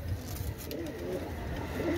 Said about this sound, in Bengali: এক জোড়া দেখেন রয়্যাল টেডি কবুতর